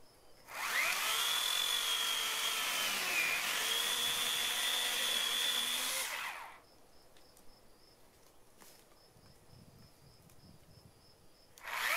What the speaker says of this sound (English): I like using this electric chainsaw because it's so much easier to maintain than a gasoline chainsaw